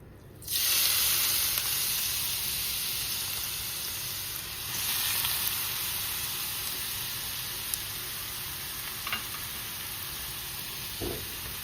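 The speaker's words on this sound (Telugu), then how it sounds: "మంచిగా పచ్చివాసన పోయే వరకు దీన్ని బాగా ఫ్రై చేసుకోవాలన్నమాట. ఇదిగోండి ఇలా తిప్పుకుంటూ ఉండాలండి." A pumpkin halwa mixture fries in a pan with a loud, continuous, even sizzle that holds steady throughout, broken only by a couple of faint stirring scrapes.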